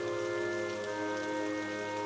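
Steady rain falls without a break, a dense even hiss of drops that stays at the same level throughout, with no voices.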